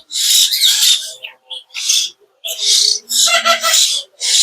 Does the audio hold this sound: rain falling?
no